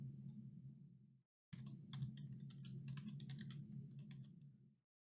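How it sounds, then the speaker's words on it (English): Soft, rapid keystrokes clatter on a computer keyboard in a steady run, pausing briefly once, over a low quiet hum. "To enter data into a cell, just click it and start typing."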